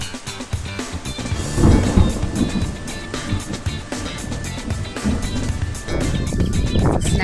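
Thunder rumbles loud and close in a continuous, rolling roar with heavier surges, heard on its own without talk.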